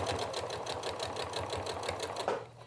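Sewing machine running steadily at a longer stitch length while top stitching a fabric coaster made from scraps, a fast even mechanical chatter close by that slows near the end.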